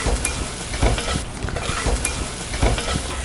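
Onions, turmeric and mustard seeds sauté in oil for potato poriyal, a steady close sizzle with spoon stirring and scraping against the pan, alone throughout.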